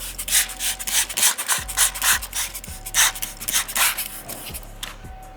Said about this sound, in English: you just rub this green tape on the side really good